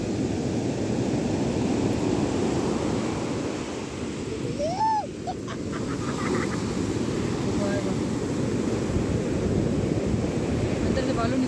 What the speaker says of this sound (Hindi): लहरों की जो ये आवाज़ें और ऊपर से ये पाँव को टच करने वाली लहरों की पानी